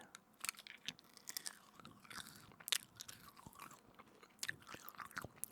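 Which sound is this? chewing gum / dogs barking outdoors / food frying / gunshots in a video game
chewing gum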